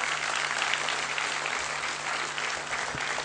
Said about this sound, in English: Big round of applause for Professor Das, please.